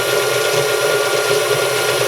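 A rattling KitchenAid stand mixer runs with a constant, close mechanical whir and a fine, busy rattle throughout, and no voices are heard.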